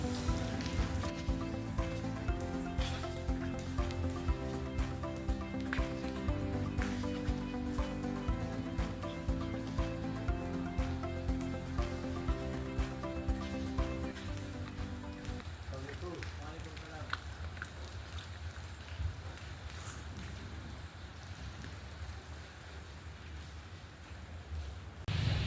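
Steady rain patters and hisses continuously for the whole stretch, with harmonic tones for the first half and voices talking over it.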